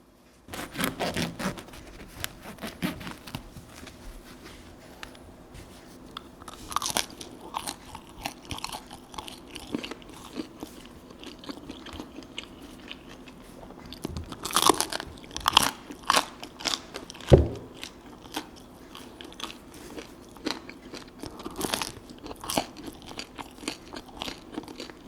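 Crusty homemade diet bread being bitten and chewed up close, repeated crunchy bites and crackling chews in irregular bursts, fairly quiet with pauses between, no talking.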